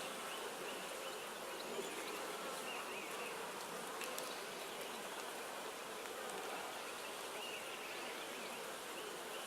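A honey bee swarm buzzing around a tree, a dense steady hum of many bees filling the air at moderate distance, unbroken and without voices.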